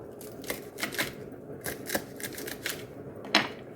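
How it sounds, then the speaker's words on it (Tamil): A knife chopping vegetables into small pieces on a board, a series of crisp, close taps in an uneven rhythm, with one sharper knock near the end. "இப்படி குட்டி குட்டியாக வெட்டி வெட்டினா தான்"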